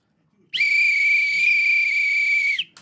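A single loud, sustained referee whistle blast lasting about two seconds, sharp at the start and cut off cleanly, blown during live reactions to an NFL Vikings vs Rams game over faint background voices.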